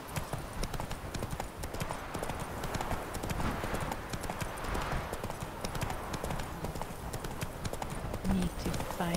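Horse hooves clip-clopping in The Witcher 3: Wild Hunt, a steady rapid trotting rhythm heard throughout with game ambience, while a voice talks over it.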